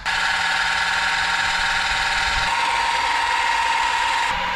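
A Seesii electric car jack's air compressor motor runs steadily with a constant mid-pitched buzzing hum and faint vibration, close and alone, with a slight shift in tone partway through.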